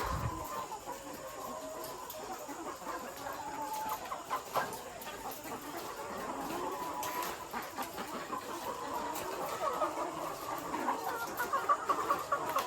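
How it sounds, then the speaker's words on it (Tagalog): Many layer hens cluck and murmur together in a farm's layer building, a busy, continuous chorus of fowl with occasional louder squawks. "ito po yung ating mga manok"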